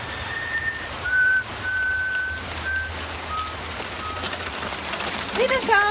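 A person whistles several thin, steady tones that end in a short rising flourish, heard faintly over a constant rain-like hiss and low rumble in the background.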